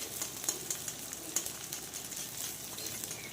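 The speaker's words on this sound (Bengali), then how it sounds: "হাফ পেঁয়াজ কুচি এবার এর মধ্যে দিয়ে ভালো করে তেলের সাথে ভাজা ভাজা করে নেব" Chopped onions frying in oil in a pan, a soft continuous sizzle with faint crackles, fairly quiet and close, no voices.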